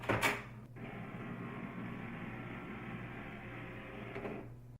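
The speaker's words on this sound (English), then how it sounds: "Wait about 10 minutes for your printer to stop making noises before you proceed." An HP USB printer whirs and hums steadily after being reset, a continuous mechanical drone that starts with a brief clunk and runs close by until it cuts off at the end.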